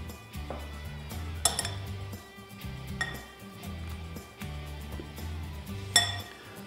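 A zucchini noodle salad with curd cheese is stirred in a dish, producing soft rhythmic scraping with repeated clinks of utensil against the bowl, quiet and close.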